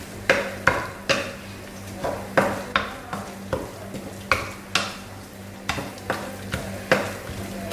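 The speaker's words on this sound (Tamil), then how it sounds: "நம்ம தேவையான நல்ல கொஞ்சம் வதக்கிறதுக்காக கொஞ்சம் எண்ணெய் சேர்த்துருக்கேன்" Sautéing in oil in a pan while cooking a masala dish, with repeated spatula scrapes and stirs knocking against the pan at a steady rhythm over a constant low sizzle.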